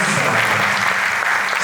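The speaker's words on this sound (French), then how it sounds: "Nous applaudissons fortement pour Monsieur Loan" An audience applauding loudly for a speaker at a conference, continuous dense clapping close and even throughout, with faint crowd voices underneath.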